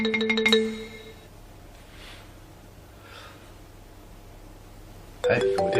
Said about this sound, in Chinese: 哎，有电话。